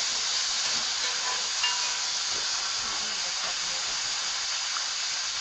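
Food frying gently in a pan on low heat, a steady close hiss that runs without a break and without any talk.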